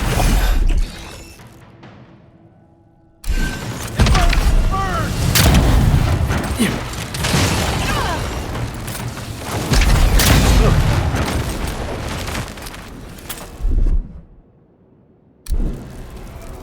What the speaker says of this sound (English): Good shooting, Kai.